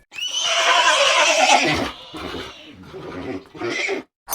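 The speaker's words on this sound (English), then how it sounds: "Horse." A horse whinnies loudly and close for about two seconds, a long, shrill neigh that trails off, followed by a couple of shorter snorting calls.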